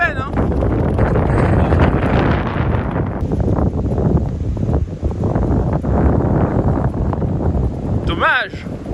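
Strong wind gusting across an open golf course on a par 3, a steady loud roar buffeting the microphone throughout, with commentators talking over it.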